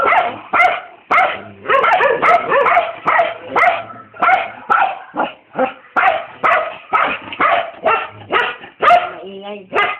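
Chucky, a dog, barks angrily in rapid, loud, close bursts with short gaps, mixed with yips and whimpering sounds throughout.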